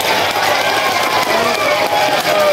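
Audience at a rural village campaign rally applauding a deputy regent, steady dense clapping from a crowd filling the whole stretch at even loudness.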